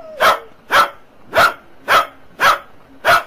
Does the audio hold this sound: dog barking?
yes